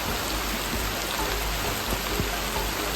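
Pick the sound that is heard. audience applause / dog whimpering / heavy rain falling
heavy rain falling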